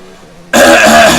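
A single throat clearing bursts out loud and close after a moment of quiet, a short rough rasp that fills the whole moment.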